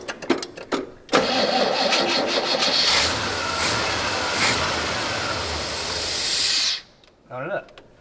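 An old GMC truck engine cranks with a few uneven bursts, then catches and roars loudly for several seconds with a strong hiss before cutting off abruptly and giving a brief final crank.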